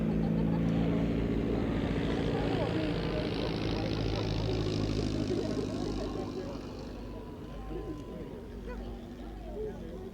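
A vintage aircraft at the Shuttleworth air show rolls down the runway, its propeller engine droning loudly and steadily before fading a little into the distance, with people talking nearby.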